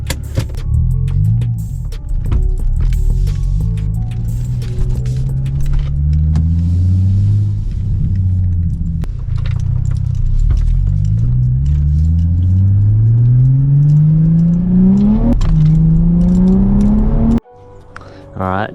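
A car engine idles, then revs and pulls away through rising gear changes, loud and close, with brief jangles and clicks before a sudden drop at the end.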